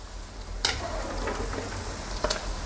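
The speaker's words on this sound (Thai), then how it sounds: "ให้เราทอดไปเรื่อยๆ จนกว่าลาบจะสุกกรอบ" Steady crackling sizzle of Thai larb meatballs frying in hot oil over medium heat, with a couple of sharp spits and pops standing out from the constant hiss.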